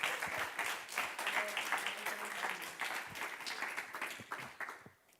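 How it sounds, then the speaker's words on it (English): Audience applause for a presenter at a summer intern final presentations event, a steady crowd of clapping hands that holds for several seconds and then fades out at the end. "Round of applause for Chris, please."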